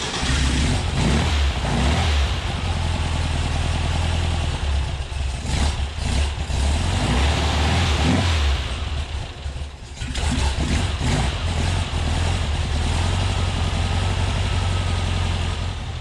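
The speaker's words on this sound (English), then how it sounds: "Okay, so I got them on the car. Let's see how it runs." A Porsche 356 engine runs on newly fitted Chinese-made dual carburetors, a loud, steady, throaty idle close by, with a brief dip and a couple of small revs partway through.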